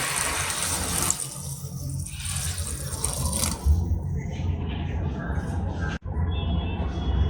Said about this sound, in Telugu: కొద్దిగా వాటర్ యాడ్ చేసుకోండి